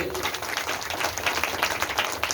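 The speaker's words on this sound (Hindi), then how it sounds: "जोरदार ताली होना चाहिए।" Crowd clapping at a Bhagavat Katha religious gathering in Sikandarpur, Bhagalpur: a brief burst of dense, loud, rapid applause that fills the moment without pause.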